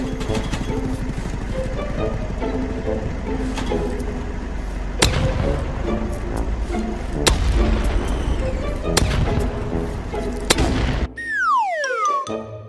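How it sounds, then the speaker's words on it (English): Anti-tank grenades go off in the shooter game BattleBit: several sharp booms land a couple of seconds apart over a constant rumbling engine-like drone of battle, and a whistling sweep comes at the end. "For something that looks like 10 pineapple grenades glued together, it sure does go off like a little Chinese firecracker"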